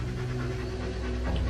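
A dog pants with quick, soft, rhythmic breaths, close by and fairly quiet, with no voices.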